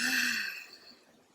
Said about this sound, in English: let's take a cleansing breath in through the nose. Let it go.